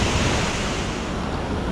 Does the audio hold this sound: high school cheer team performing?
no